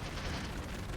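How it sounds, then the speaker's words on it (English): A video-game stun grenade going off as a brief, loud, broadband blast that fills the whole second with a dense roaring burst. "Stun grenade!"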